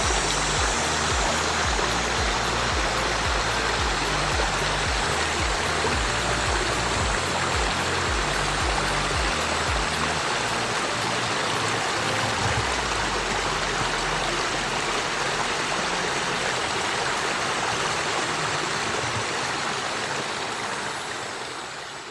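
A backyard waterfall built by Pond King Water Gardens in Stillwater pours in a steady, full rush of falling water, close and loud, with a low rumbling undertone early on.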